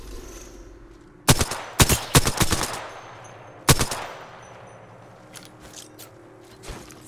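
Bursts of automatic gunfire in the video game Apex Legends, a rapid loud volley followed by a single heavy shot, then quieter scattered clicks and footsteps, no speech.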